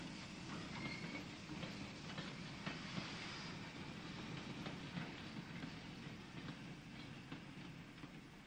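An Irish narrow gauge goods train, locomotive No. 5 Drumbo, rumbles past at moderate distance through a station loop, wheels clattering rhythmically over the rails with faint squeals, steady throughout.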